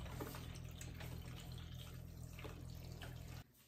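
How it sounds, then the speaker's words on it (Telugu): Water drains out in a steady, close gush from a machine after washing, a continuous rushing flow with low hum beneath, stopping abruptly near the end. "ఓకేనండి, వాటర్ అంతా ఎగ్జిట్ అయిపోయింది"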